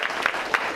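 Brief burst of audience clapping at a community candidates' forum, a few distinct hand claps standing out over a softer wash of applause.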